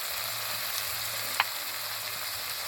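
Ground cumin hits hot oil in a frying pan during Bengali potol dorma cooking, producing a steady close sizzle with one brief sharp tick partway through.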